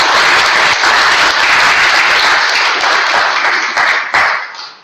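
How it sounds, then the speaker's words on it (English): Applause from the audience at a Toastmasters club meeting for all the speakers: dense, steady clapping that stays loud for about four seconds, then thins and fades out near the end. "a round of applause for all the speakers"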